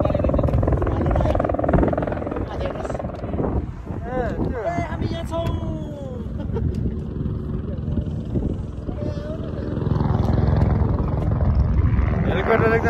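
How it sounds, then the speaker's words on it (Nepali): A helicopter flies below trekkers on the Everest Base Camp trek in the Himalayas, giving a steady droning rumble mixed with wind noise while people talk. "हेलिकप्टर एकदम हामी हाम्रो हाइटभन्दा तलबाट गइरहेको छ हेलिकप्टर"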